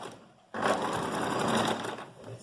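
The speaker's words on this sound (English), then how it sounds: "I'll be able to sew it on this line" Sewing machine stitching a zip onto a dress: after a brief quiet moment it starts abruptly and runs as a close, steady, buzzing hum for about two seconds, then slows slightly at the end, with no talking.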